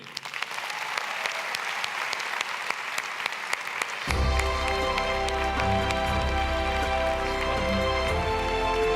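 A debate audience breaks into loud, sustained applause to welcome the speakers, a steady dense clapping that swells partway through as music enters underneath.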